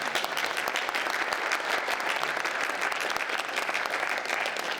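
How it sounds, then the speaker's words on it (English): A large audience at a domestic violence forum gives steady, sustained applause to welcome a proud Bunurong woman to the stage, dense and even throughout with no voices. "Please give her a round of applause"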